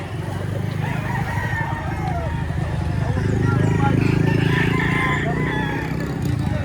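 A rooster crows against a busy background with people talking nearby, its wavering call rising above the steady murmur of voices and ambient noise.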